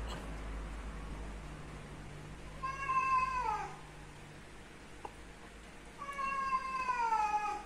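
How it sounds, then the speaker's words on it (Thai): A cat meows twice, each call a drawn-out, falling cry separated by a few seconds of quiet, heard alone against faint room hiss in an indoor workspace. "มีแมวหลอนนะครับแมว"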